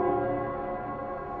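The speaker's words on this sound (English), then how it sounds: "it's the Nell Squares bell." The Nell Square bell in the video game Wuthering Waves, ringing as one steady, sustained bell tone with a long, even ring that slowly fades, heard alone without speech.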